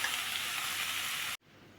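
Onion sizzling steadily in a hot pan, a loud, even frying hiss that cuts off abruptly, leaving faint room tone.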